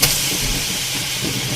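Radish pieces dropped into spiced masala roasting in a pan with whole and chopped green chillies give a loud, steady sizzling hiss that holds evenly throughout, with no talking.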